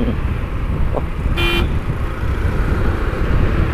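A short, single car horn toot cuts through steady road and engine rumble from inside a moving vehicle.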